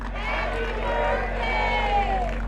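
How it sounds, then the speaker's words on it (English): A crowd at a Bassmaster bass fishing tournament on Oneida Lake shouts in unison for a four-year-old boy's birthday, a loud, sustained mass of voices with scattered cheering and clapping. "If y'all could say happy birthday to the little guy."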